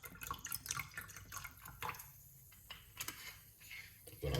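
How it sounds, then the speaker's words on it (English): Water runs over a moringa leaf being washed, giving faint, close drips and small irregular splashes that swell into a fuller pour at the very end. "I'm gonna wash off the leaf."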